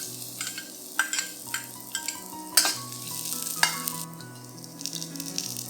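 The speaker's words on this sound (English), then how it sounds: "Then, fry the aromatics." Ginger and garlic aromatics frying in oil for a chili bean sauce tofu dish, a continuous close sizzle broken by several sharp stirring scrapes and clacks spread through the clip, no voices.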